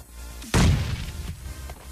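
A sudden loud grenade blast in the video game PUBG Mobile bursts in with a broad rumbling crack, then decays into scattered rumble and debris-like noise.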